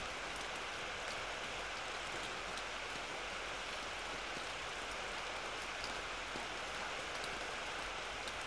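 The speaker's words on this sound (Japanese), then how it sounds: "雨音に誘われるように私は思い出す、思い出してしまう。" Steady rain falls in the video game ネコとワタシと雨の家, an even, continuous hiss of drops with no pauses, soft and unchanging throughout.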